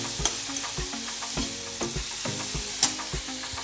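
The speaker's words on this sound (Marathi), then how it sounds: "त्याला असं छान फ्राय करून घ्यायचं" Aloo sandwich filling frying and being stirred in a pan, with a steady sizzle and regular scraping strokes of the spoon against the pan, close and fairly loud, no voices.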